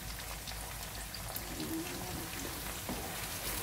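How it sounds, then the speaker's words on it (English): Onions sizzle steadily in a hot pan, a continuous crackling hiss with no voices. "Onions, it's frying."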